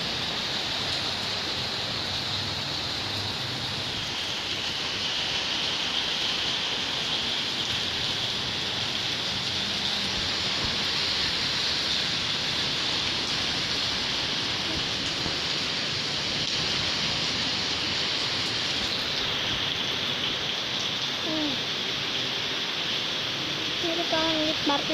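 Heavy rain pours during a storm as a dense, steady hiss that stays loud and unbroken throughout, with faint indistinct voices now and then beneath it.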